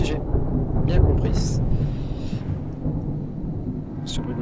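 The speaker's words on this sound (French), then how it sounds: "Ce bruit d'orage qui m'a surpris." A thunderstorm rumbles in the horror video game Amnesia: A Machine for Pigs. Heavy low thunder rolls continuously under a rain-like hiss, with a few brief sharp crackles breaking through.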